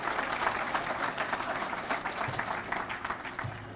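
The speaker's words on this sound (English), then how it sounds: "Let's give them a round of applause" An audience at a Union County grand opening applauds workforce board members, a steady wash of clapping at moderate volume that stays even throughout.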